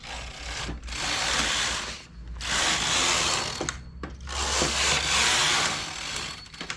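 A knitting machine carriage set at tension 7 sweeps across the needle bed in three loud, rasping, clattering passes. Each pass lasts about two seconds, with short pauses between, and no voices are heard.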